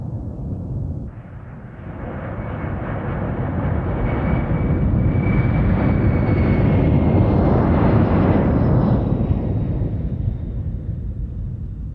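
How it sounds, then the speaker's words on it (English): A McDonnell Douglas C-17 Globemaster III flies past at an air tattoo, its jet engines building into a loud, broad roar with a whining tone that peaks overhead and then slowly fades. "The McDonnell Douglas C-17 Globemaster III is extremely agile at both high and low speeds"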